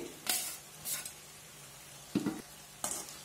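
Cooked rice being stirred into masala in a pan for vegetable pulao, a few short scraping, spoon-on-pan strokes with quiet pauses between.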